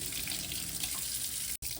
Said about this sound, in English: we're going to put 1/2 cup room temperature water in it